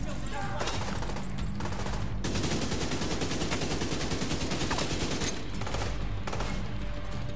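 Sustained automatic gunfire in the shooter The Division 2, a dense continuous rattle of rapid shots with a few brief pauses, loud and close throughout.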